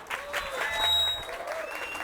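An audience claps at a political party membership event, a crowd's applause swelling and fading with some cheering voices and a whistle over it.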